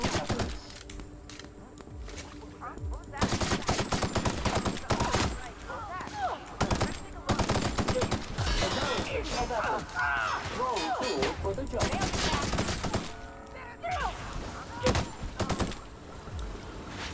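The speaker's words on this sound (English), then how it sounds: "I don't think I was shooting at the right thing there." Rapid bursts of gunfire from The Outer Worlds video game, dense automatic shots and impacts clustered in loud volleys with brief pauses, a game voice heard among the shooting.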